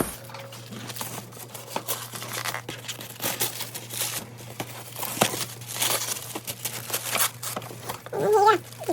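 A paper napkin design is peeled off a candle, giving close crinkling and soft tearing rustles that come and go over a constant low hum.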